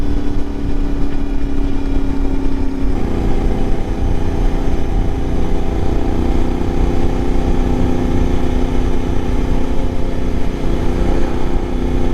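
An Ibex 450 motorcycle, fitted with an upgraded ECU, idles on the Ortega Highway, its engine a loud, steady, continuous drone with a slight shift in tone about three seconds in and no talking.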